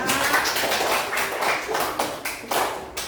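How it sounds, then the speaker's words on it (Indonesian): Children clapping hands in an elementary school classroom, a short burst of scattered, uneven claps and taps that rise and fall in loose clusters, fairly close. "tepuk tangan untuk kalian semua"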